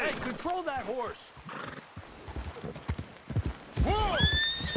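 A horse in the Red Dead Redemption 2 game whinnies loudly in repeated neighs with hoof clops beneath, while a voice talks over it.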